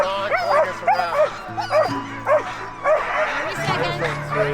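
Sled dogs yip, bark and whimper excitedly in a rapid, overlapping chorus of high, wavering cries, close by and continuous, with people talking among them.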